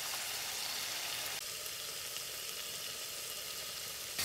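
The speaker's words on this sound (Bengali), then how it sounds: "সমস্ত মশলা খুব ভালো করে কষে নেব।" Spice masala fries in a pan for a Bengali chitol fish dish, giving a soft, steady sizzle that dips slightly partway through and runs without breaks.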